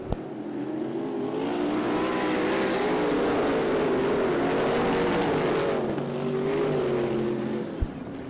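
Sprint cars race in a pack on an oval track, a loud, continuous engine roar with overlapping harmonic whines that swell and dip as cars pass, with no voices heard.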